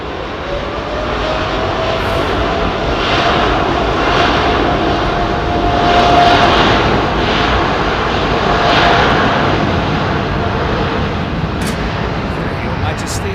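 A Boeing 777 jumbo jet on approach at Heathrow Airport, its broad engine roar swelling and holding steady across the whole stretch, with people talking over it.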